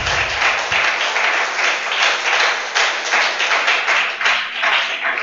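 A church congregation claps together in a sustained, lively round of applause, steady and close for several seconds.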